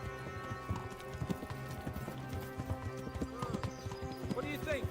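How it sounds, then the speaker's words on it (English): Horse hooves clip-clop at a steady, unhurried gait in the medieval game Kingdom Come: Deliverance, a fairly close rhythmic clatter that runs under continuous conversation between riders. "The horse is a bit slow."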